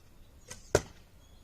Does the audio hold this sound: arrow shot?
yes